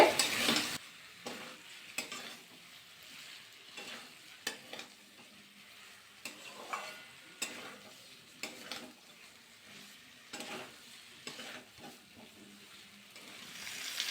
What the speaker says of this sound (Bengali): ফুলকপি দিয়ে কিন্তু ভালো করে আবার নাড়াচাড়া করে দিতে হবে